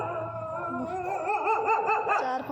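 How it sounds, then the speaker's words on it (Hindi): Several dogs bark and howl from a short distance outdoors, their overlapping cries wavering in a continuous, moderately loud chorus with no talk. "मुझे देख के भौंक रहे हैं"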